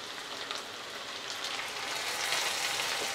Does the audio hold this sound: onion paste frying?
yes